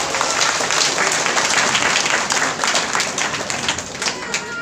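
A seminar crowd in Bagodar applauds loudly and steadily, dense clapping filling the whole stretch with a few scattered sharper claps near the end.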